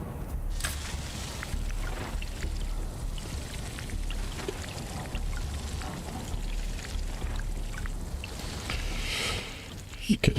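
Water being collected in Dune Awakening, a steady pouring, rushing flow that runs continuously with a voice speaking over it, ending in a couple of sharp clicks.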